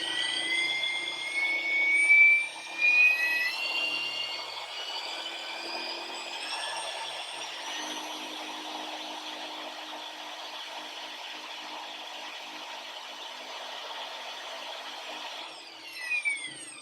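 Ferguson TED20 tractor dynamo spun up on a test, a rising high-pitched whine that climbs steadily in pitch and then holds at a sustained tone, with a few louder mechanical bumps near the start and end.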